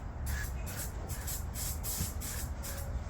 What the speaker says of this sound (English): spray a bit of Easy Start in there.